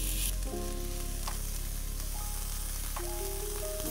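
Onion and ginger sautéing in a pan for a winter soup, a loud continuous frying sizzle that settles after a stir, with occasional scraping clicks of a spoon and no voices.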